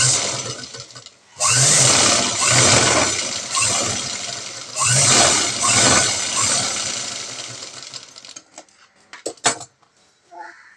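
A sewing machine stitches a border onto balloon sleeves in two loud, steady runs of mechanical whirring, then slows to a few scattered clicks and taps as it stops.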